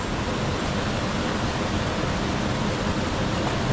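Steady, dense rushing of a waterfall, a constant broadband roar of falling water with no pauses or voices.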